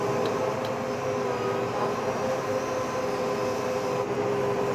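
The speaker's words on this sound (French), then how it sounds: "Je lance ma prise de force, j'accélère et bah là c'est parti" A farm tractor's power take-off drives a straw bedding machine in a cattle barn, a loud steady mechanical whine and rumble with a constant tone and no talk.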